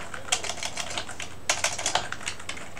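Close computer keyboard typing in irregular bursts of quick key clicks with short pauses between, with no voices.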